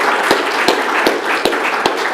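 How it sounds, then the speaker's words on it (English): Audience applause for the speakers at a disaster preparedness session, a steady wash of clapping with a few sharper claps standing out at regular intervals, moderately loud and without talk. "let's give our speakers another round of applause."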